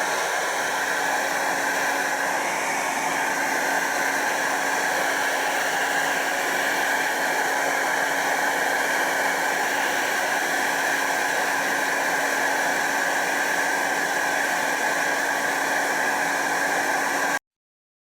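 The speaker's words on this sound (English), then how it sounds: "Here I take a regular household hair dryer and start to increase the temperature." A regular household hair dryer blows with a loud, steady rushing drone and a faint hum, running continuously without pause before cutting off abruptly at the end.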